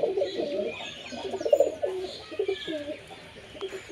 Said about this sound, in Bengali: তো আমার টেডি পায়রা ঢাকা আছে ওইখানে,